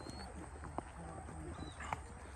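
Horses walk along a trail ride near Deep Creek Lake, a few soft hoof clops rising over steady outdoor ambience while people talk nearby.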